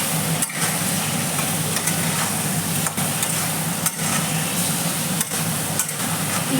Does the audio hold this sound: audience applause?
no